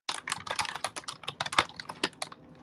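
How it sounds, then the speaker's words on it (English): Rapid, irregular clatter of fingers typing on a computer keyboard, close and fairly loud, with keystrokes tumbling in quick bursts and no talking. "Are you typing, Nunya?"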